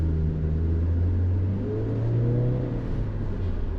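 A Subaru Levorg with a boxer engine pulls away gently, its engine giving a smooth, steady low hum from inside the cabin for a few seconds, unhurried and without hard revving.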